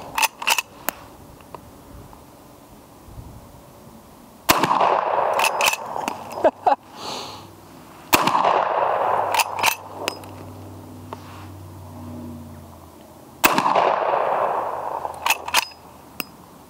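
Gunshots from a Henry Original carbine rifle fired outdoors toward a muddy target: three loud, sharp reports spaced several seconds apart, each followed by a rolling echo, with lever clacks and faint voices between shots.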